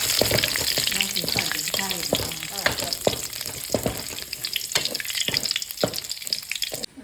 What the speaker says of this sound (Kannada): ಒಗ್ಗರಣೆ ದೀಕಾ ಒಗ್ಗರಣೆ ಆಡ್ತಾ ಸರಿ